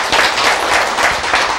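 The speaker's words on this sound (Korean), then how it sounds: "박수!" Lecture audience clapping in a hall, a brief loud burst of many hands applauding together with no talk over it.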